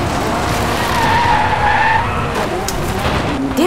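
Tires skid and squeal as a Ferrari slides in the racing video game Drive Club, a loud continuous screech with rising and falling pitch over steady engine roar, with no talking.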